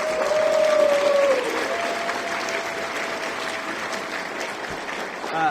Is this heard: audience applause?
yes